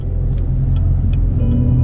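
A 2019 Camaro ZL1 1LE with an automatic 10-speed gearbox in manual mode pulls away, a loud, deep, steady engine rumble filling a short stretch.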